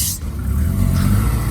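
Turbocharged Subaru STI wagon with a big turbo, a fault in the alternator area, pulling around a parking lot: a steady, close engine drone with a low rumble that builds slightly, no voices.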